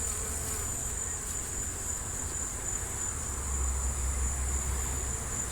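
Honey bees buzzing steadily on a hive frame during a laying queen transplant, a close, continuous hum with no talk.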